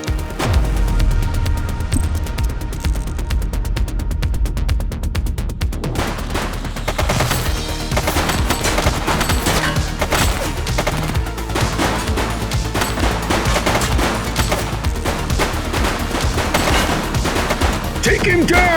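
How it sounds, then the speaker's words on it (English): Dense, loud gunfire fills a police shooter video game, The Precinct, with rapid automatic bursts and overlapping shots running throughout alongside booms and game noise, and voices call out over the shooting. "He's shooting!"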